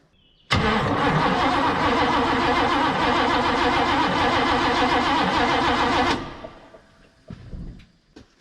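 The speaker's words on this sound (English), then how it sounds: "Now we'll go crank on it and see if fuel squirts out" Chevrolet El Camino engine cranking, a loud rhythmic starter whir with pulsing churn lasting several seconds before cutting off, followed by faint clatter.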